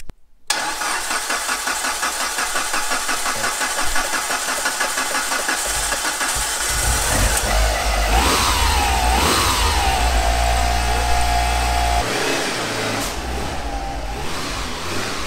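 A Mitsubishi Evo 8 engine cranks and fires up, then revs loudly several times with rising and falling pitch before settling to a steady idle, close to the microphone with no talking.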